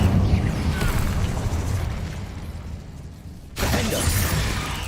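An Incendio fire spell erupts in the video game Hogwarts Legacy, a loud whooshing, crackling burst that fades over a few seconds before a second blast hits abruptly near the end.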